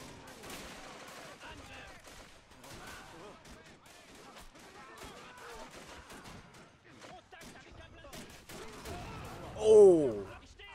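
Distant gunfire and artillery in a World War One battle game at Fort de Vaux, scattered cracks and rumbling bursts under a busy battlefield din, ending with a louder close blast near the end.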